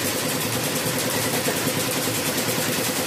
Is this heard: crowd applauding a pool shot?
no